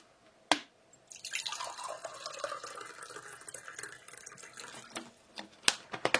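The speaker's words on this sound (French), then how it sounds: "Le doux bruit de l'eau." Water dripping and trickling, a sharp single drop near the start, then a soft running trickle and a few more distinct close drips toward the end, no voices.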